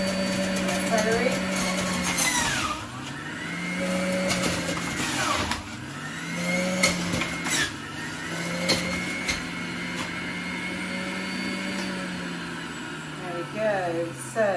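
An electric juicer grinds celery with a steady motor whir that dips and surges under the load, continuous and close throughout, with a few sharp clatters near the end.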